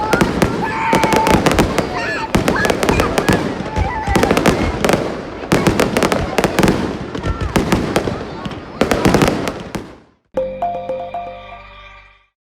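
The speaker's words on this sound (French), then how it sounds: "un feu d'artifice tiré depuis la mairie" Fireworks display launched from a town hall, with a dense run of loud bangs and crackling bursts for about ten seconds, followed by a short tonal passage as the show ends.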